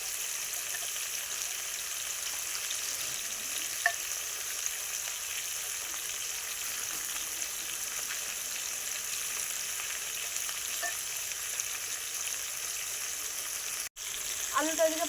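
Potatoes fry in a clay handi pot with a steady, even sizzle from start to finish, broken by a few faint clicks and a brief cut near the end.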